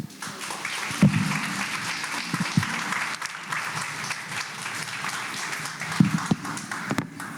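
A summit audience claps for a doctor who has just finished speaking, a moderate, uneven patter of hands with a few sharper claps and thumps rising above it.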